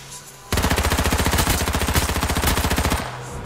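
Automatic gunfire from the PS4 battle royale game H1Z1 breaks out in one long rapid burst of shots lasting a few seconds. It is loud and close, then it cuts off sharply.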